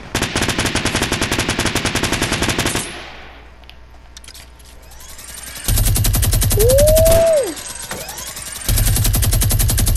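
Rapid, sustained minigun fire in the battle royale game Fortnite, loud bursts of dense automatic shots that stop, then resume twice, with a brief rising whine between bursts and no talking.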